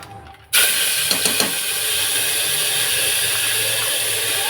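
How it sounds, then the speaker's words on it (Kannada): Ginger garlic paste hits hot oil in a cooker, and after a brief quiet moment a sudden loud, steady sizzle bursts up and keeps hissing evenly, with a few small crackles. "ಎಣ್ಣೆ ಸ್ವಲ್ಪ ಬಿಸಿ ಆದಮೇಲೆ ಶುಂಠಿ ಬೆಳ್ಳುಳ್ಳಿ ಪೇಸ್ಟ್ ಹಾಕ್ಕೊತೀನಿ."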